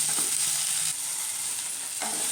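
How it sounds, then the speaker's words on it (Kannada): Okra frying in a spoonful of oil, a steady close hiss with a soft scrape or stir partway through and no voices. "1 ಸ್ಪೂನ್ ಎಣ್ಣೆ ಹಾಕ್ಬಿಟ್ಟು ಸ್ವಲ್ಪ ಫ್ರೈ ಮಾಡ್ಕೊಳ್ಳೋಣ"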